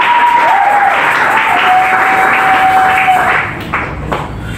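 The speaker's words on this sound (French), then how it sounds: "Est-ce qu'on peut bien acclamer Jésus?" A church congregation applauds and cheers for Jesus during a service, with loud sustained clapping and crowd noise from many people close around and a steady whistle-like tone, tapering off toward the end.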